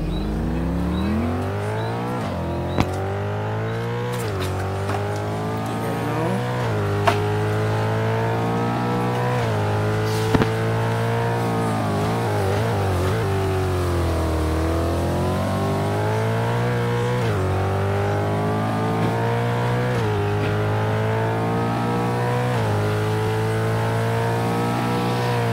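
A race car engine revs and accelerates off the line at a race start, loud and close, pitch climbing through repeated gear shifts in a steady rising and falling pattern for the whole stretch.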